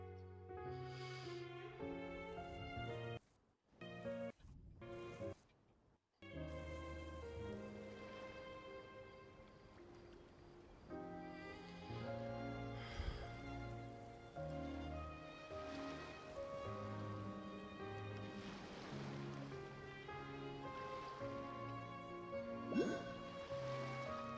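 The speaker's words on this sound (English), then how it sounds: "It's raining here too." Steady rain in the video game Genshin Impact pours down under a layer of music, with a couple of brief dropouts early on before the downpour continues at an even level.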